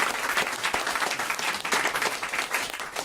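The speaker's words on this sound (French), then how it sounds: "J'aime bien qu'on applaudisse un peu la culture politique aussi de temps en temps" Studio audience on a French comedy talk show applauds steadily, a dense, even burst of clapping that fills the whole moment with little talk over it.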